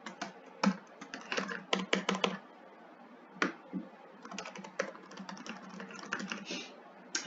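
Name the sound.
typing on a computer keyboard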